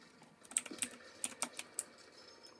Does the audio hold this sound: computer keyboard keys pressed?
yes